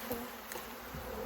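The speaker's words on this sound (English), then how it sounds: "Makes it a lot easier if you shake the bees off." Honey bees hum steadily across a hive frame during an inspection, a continuous close buzzing with no speech over it.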